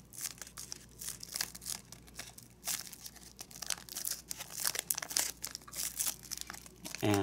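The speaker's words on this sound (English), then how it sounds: "we're bringing this fold to this fold, and we're making a new fold in between" Soft, close crinkling and creasing of paper being folded for an origami gauntlet, a series of faint crisp rustles and sharp crease snaps with short gaps between them.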